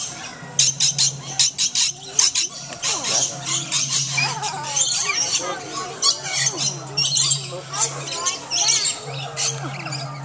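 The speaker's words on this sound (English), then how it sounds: "You see all the birds, buddy?" A flock of birds squawks loudly and repeatedly while being fed, with shrill overlapping calls in irregular bursts close to the listener. A steady low hum runs underneath and a voice talks between the calls.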